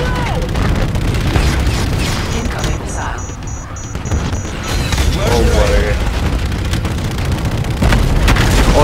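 Missile explosions from the video game Call of Duty Infinite Warfare: loud, dense booms and bursts that rumble almost without a break through the whole stretch, with a voice speaking now and then over the combat.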